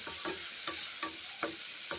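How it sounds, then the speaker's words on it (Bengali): Sliced bitter gourd sizzles steadily in hot oil while a spatula scrapes the pan in regular strokes, roughly every half second, close and clear with no voices. "উচ্ছে ভাজা ভেজে নিচ্ছি করলা ভাজা ভেজে নিচ্ছি"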